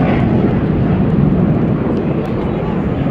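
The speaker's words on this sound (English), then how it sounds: "Both aircraft pulling hard and squatting through point 2." F-14B and MiG-17 jet aircraft pulling hard turns roar in a loud, continuous, dense engine rumble that holds steady throughout, with a faint voice underneath.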